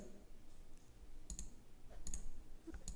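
A computer mouse clicks a few times to download a file, sharp isolated ticks against a quiet room background.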